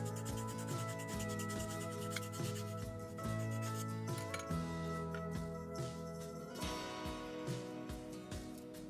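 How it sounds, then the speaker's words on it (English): A carved wooden spoon is filed and sanded by hand, with continuous rasping, rubbing strokes close up, interrupted by occasional light clinks of tools. "I figured filing and sanding would do the job just as well"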